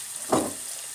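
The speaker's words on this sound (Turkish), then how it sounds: "Kavurmaya devam ediyorum." Food sautéing in a pan after a pinch of salt goes in while cooking stuffed chicken, a single brief soft sizzle and stir swelling up then fading into a low steady frying hiss.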